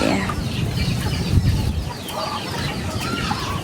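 Chickens cluck continuously up close while being fed rice husks, several birds chattering over one another with busy scratching underneath and no one speaking.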